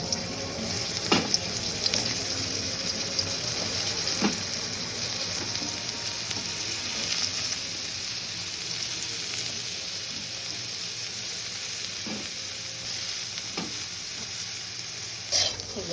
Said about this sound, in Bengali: আমি পটলটা ভেজে নেব